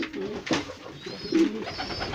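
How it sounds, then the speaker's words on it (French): Pigeons coo in soft, low, rounded calls that recur a few times over a couple of seconds, fairly close and fairly quiet, with no talking. "nouvelle vidéo sur mes pigeons"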